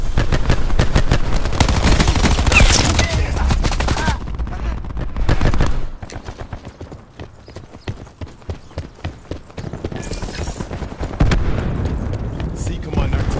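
A nine-bang stun grenade detonating in Black Ops 4 multiplayer, heard as a rapid series of loud sharp bangs over the first few seconds, followed by quieter clicks and game noise.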